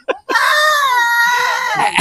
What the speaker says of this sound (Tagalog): Iba na yung atungal ng kambing.